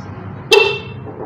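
A repaired vehicle horn being tested gives one short, sharp, loud honk that cuts in over faint background noise and then rings off quickly.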